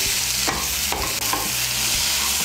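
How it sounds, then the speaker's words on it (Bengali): Chopped tomato stirred and fried in a pan for a Bengali potol dish, a dense continuous sizzle with a few sharp spatula scrapes, loud and close, no talking. "টমেটোটাকে মিশিয়ে নিয়ে একটু ভেজে নিয়েছি।"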